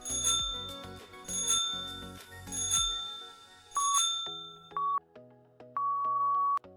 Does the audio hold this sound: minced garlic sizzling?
no